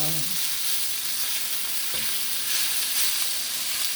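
Oil sizzles steadily in a heated Dutch oven on low heat, a continuous close hiss with a brief clink partway through and no talking.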